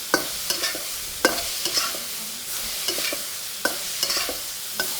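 Green beans stir-fried with chilli bean sauce, dark soy and a little sugar, hissing steadily in a hot pan while repeated sharp scrapes and tosses cut through at a loose rhythm, close up with no voices.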